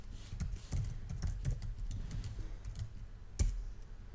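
Rapid keystrokes on a computer keyboard while entering a chmod command at a terminal, a close, busy patter of clicks with one sharper key strike near the end, no talking.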